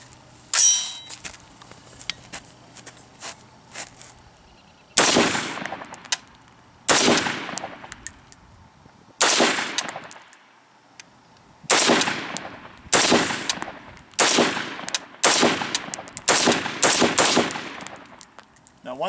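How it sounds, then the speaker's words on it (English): Gunfire from a 5.45x39 AK-74 caliber AR-15 type rifle, a series of about a dozen loud, sharp shots in irregular rhythm with short echoing tails, close by. "we're going to do is take some shots with it."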